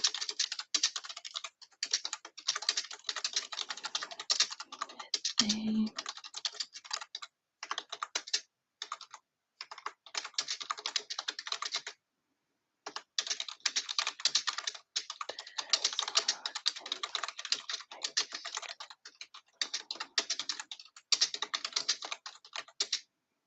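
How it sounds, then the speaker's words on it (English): Steady, rapid typing on an external computer keyboard, close and fairly loud, runs in bursts with brief pauses throughout, with no voices. "I have to use an external keyboard the whole time."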